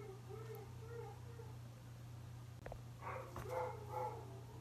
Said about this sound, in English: That is my roommate's dog.